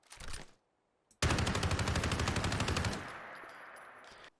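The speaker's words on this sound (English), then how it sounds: "And then here is the 10mm in full auto." A 10mm gun from a Steyr AUG mod in the game Fallout 4 fires on full auto: one short burst, a pause, then a long rapid stream of loud shots that ends in a fading echo.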